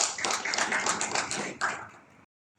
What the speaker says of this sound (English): So I would like everyone to give him a round of applause